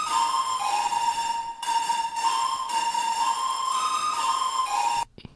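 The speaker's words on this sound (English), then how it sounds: "So without that on it, it sounds like this." A clean, bright synth pad without the Rift effect plugin holds steady tones rich in overtones, with a couple of brief note changes, then cuts off abruptly near the end.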